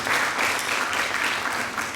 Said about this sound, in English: give him a loud round of applause